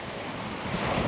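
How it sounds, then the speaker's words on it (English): Ocean waves breaking on the beach at Whitby, a continuous rushing surf roar mixed with wind buffeting the microphone, steady and fairly loud over a brief moment. "Look at the waves,"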